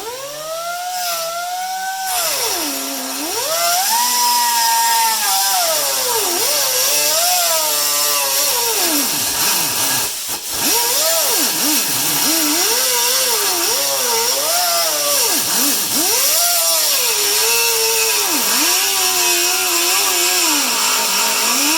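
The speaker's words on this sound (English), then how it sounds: "So, trusty die grinder with a cutting disc on it." A die grinder fitted with a cutting disc slices into the intake of a 1996 Viper, a loud, continuous high whine that dips and rises in pitch as the disc bogs under load and recovers, with no talk over it.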